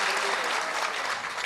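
Audience at a mushaira, an Urdu poetry gathering, clapping in a steady dense burst of applause, loud and close, with no gaps.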